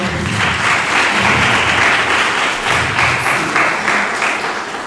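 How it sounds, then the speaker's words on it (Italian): Sustained applause from a lecture audience fills the room at a steady, dense level for the full stretch, tapering slightly near the end with no speech over it. "merita veramente un applauso anche per questo"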